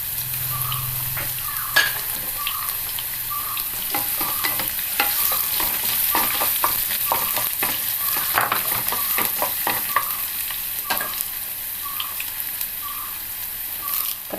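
Dried red chillies fry in hot oil with shallots and mustard seeds, a continuous sizzle broken by repeated scraping stirs of a spoon against the pan.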